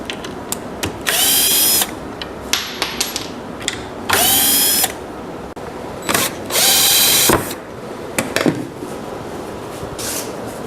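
Power drill backing screws out of a wooden bike stand during disassembly, several short whirring bursts separated by pauses with small clicks and wood handling noises between them, close and fairly loud.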